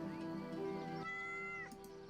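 A cat meows in the video game Yes, Your Grace, a drawn-out cry over a steady musical background, fairly faint and with no talk over it.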